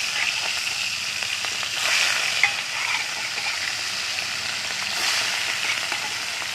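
Rohu fish rubbed with salt and turmeric spitting and sizzling in hot oil in a heated wok, a steady, close crackling fry with brief louder bursts and no voices.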